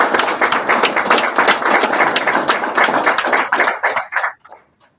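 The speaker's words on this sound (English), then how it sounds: "Let's give our student graduates one more round of applause." Audience applause at a nursing student graduation pinning ceremony, a dense burst of many hands clapping close and loud for about four seconds before thinning out and fading to silence.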